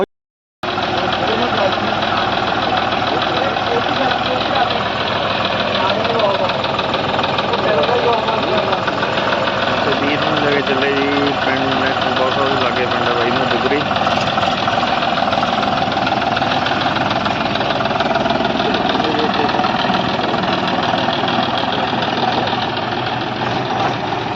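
A John Deere tractor engine idles steadily and loudly close by, a continuous rough mechanical drone for the whole stretch after an abrupt start.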